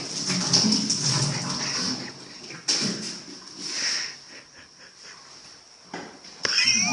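A dog whimpers and yips in short, uneven bursts over a steady high hiss, with louder rustling knocks midway and near the end during a spoon-smacking challenge at home.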